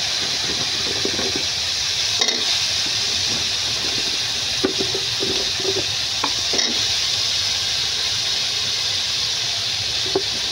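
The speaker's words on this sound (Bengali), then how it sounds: "মশলা ভালো মতো কষানো শেষ, এবার আলু দিয়ে দেবো।" Potatoes go into a frying masala and are stirred, a steady sizzle and hiss broken by scattered clicks and scrapes from the spoon against the pan.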